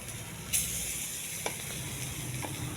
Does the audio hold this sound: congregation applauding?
no